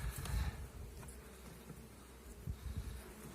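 A steady, low hum of honeybees in a weak, ailing hive drones close by with no voices, a dense buzzing that swells briefly at the start and again near the end.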